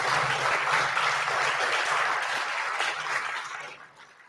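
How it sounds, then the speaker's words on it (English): A theater audience claps for panelists after a game audio production talk, sustained even applause from a sizable crowd that gradually thins and fades out over the last second. "I would like everybody to give a round of applause to our panelists."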